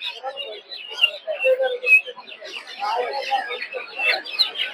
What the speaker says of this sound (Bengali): দেখতে পাচ্ছেন এই জায়গায় ব্রাহ্মা মুরগির বাচ্চা